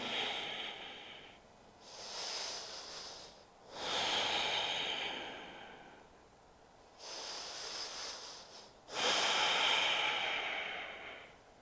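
Slow, deep breathing during a yoga flow, close and clear: long airy inhales and exhales in an even rhythm, with no talking.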